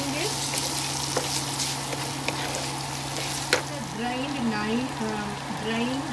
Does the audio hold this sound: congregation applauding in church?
no